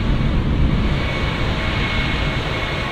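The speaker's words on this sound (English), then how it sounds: "you hear the engine noise, like, it just sounds a little off" Steady, loud broadband engine roar of a Boeing 767-300ER in the X-Plane 12 flight simulator, a continuous even drone filling the whole stretch with no talking.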